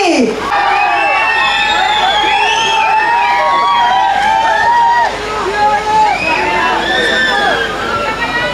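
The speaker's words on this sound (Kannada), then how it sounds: "ನಿಮ್ಮೆಲ್ಲರ ಪ್ರೀತಿಯ ಚಪ್ಪಾಳೆಯೊಂದಿಗೆ ಸ್ವಾಗತಿಸಿ ಗಾನವಿ" A crowd at a grand trailer launch for a Tulu film claps and cheers loudly and without a break, with shrill whistles rising over the din.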